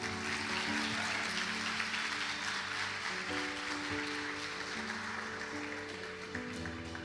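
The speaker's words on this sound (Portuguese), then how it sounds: "Dá um aplauso por esse homem." Sustained applause from a church youth congregation honoring the preacher's father, a steady dense clatter of many hands with faint tonal music underneath.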